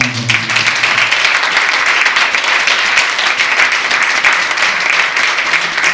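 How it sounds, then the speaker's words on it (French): Loud, steady applause from a literary-prize audience at a book event fills the whole stretch, dense and continuous after a brief moment of voices at the start. "je vais vous demander d'applaudir très fort la scène littéraire"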